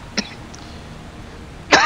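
Two short, sharp coughs from the video game Far Cry 3 Blood Dragon, one quick near the start and a harsher burst at the end, separated by a quiet stretch of low background hum.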